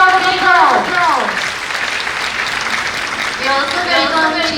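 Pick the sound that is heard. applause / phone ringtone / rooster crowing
applause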